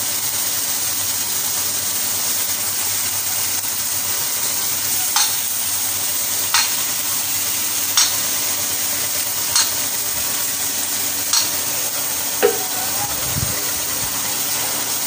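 Fish bones from a boal catfish sizzle loudly in a hot pan, a steady frying hiss broken every couple of seconds by sharp scrapes of stirring, with a low clunk near the end.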